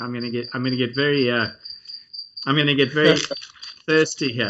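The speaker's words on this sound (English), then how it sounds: "you can hear the crickets because we're in Africa, and the sun's going down" Crickets chirp at sundown in Africa, a thin steady trill running beneath someone speaking close by, continuing through the pauses in his talk.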